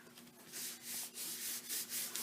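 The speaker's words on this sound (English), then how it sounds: "I'm burnishing this well because of the 3D texture." Embossed cardstock is burnished by hand for a plaid card, giving a close series of dry, rhythmic rubbing strokes that swell and fade with each pass.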